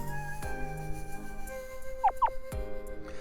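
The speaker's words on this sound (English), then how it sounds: "Next, a duck came in," A duck sound effect from the visual novel game If My Heart Had Wings: two short, squeaky squawks in quick succession midway through, over steady background music.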